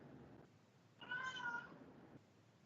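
A house cat gives a single short meow, fairly faint and alone against quiet room background.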